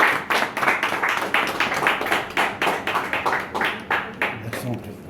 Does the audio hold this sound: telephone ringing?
no